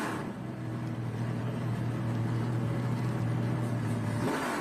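Race cars accelerate around the track at VIR during a SpeedTour event, a loud sustained engine roar holding a steady tone that rises briefly at the end, with no talk over it.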